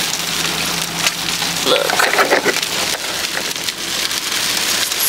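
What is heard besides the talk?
heavy rain falling outside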